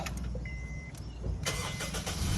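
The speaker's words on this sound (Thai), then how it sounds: "เยียบเบรกอ่าสตาร์ท" A Honda Accord's engine cranks over and starts, its starter whirring under steady broadband engine noise that swells and settles into a loud, close running rumble; no talking.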